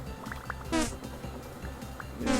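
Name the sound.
bees buzzing in Vintage Story video game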